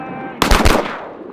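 Shotguns fire at waterfowl on big open water: two or three loud, close blasts in quick succession, with the last shot echoing briefly into quiet afterward.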